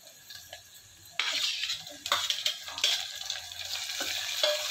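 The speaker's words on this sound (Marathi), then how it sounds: "कांदा टाकलाय। मस्त अशी कडकडीत फोडणी बसून द्यायची आहे" Chopped onion and garlic fry in a hot tempering for dal palak. A quiet sizzle bursts louder about a second in and keeps crackling unevenly, with faint stirring clinks.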